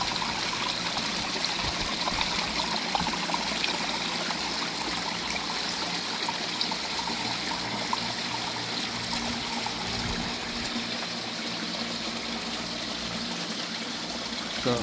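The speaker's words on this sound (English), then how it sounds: "getting massive splash here" Water splashing and trickling steadily into a new garden pond, a continuous close rushing wash with no breaks or talk.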